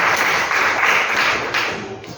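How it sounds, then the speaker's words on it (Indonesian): Classroom applause for a student, a burst of many hands clapping together at once, fairly loud and close, holding steady before thinning out toward the end. "Tepuk tangan untuk Cinta."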